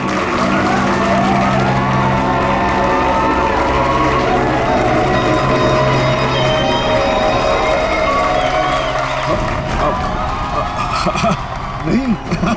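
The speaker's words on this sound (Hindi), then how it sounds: "तालियां!" Audience clapping and cheering at a staged television crime-drama show, a loud, dense crowd roar with music underneath that runs steadily and then thins out near the end.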